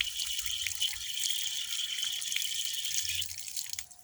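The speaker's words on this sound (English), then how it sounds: "So you wash your hands." Tap water runs steadily into a sink as hands are washed for Muslim ablution before prayer, a close, continuous splashing flow with small shifts in tone, no voices.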